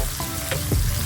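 Blended chili and garlic spice paste hits a hot pan for seblak, giving a brief, close sizzling fry with faint stirring scrapes.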